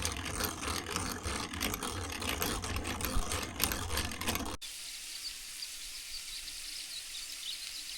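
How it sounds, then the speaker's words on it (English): Potatoes sizzle and fry in a pan on a wood-fired cookstove, a dense crackling hiss with faint chirping pops that cuts off abruptly partway, leaving a quiet room hum. "My potatoes sound like little birds."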